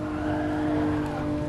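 A 1967 Toyota 2000GT in GT Sport easing off from about 220 km/h ahead of braking, a steady engine drone with a sustained tonal whine, close and continuous with no talk.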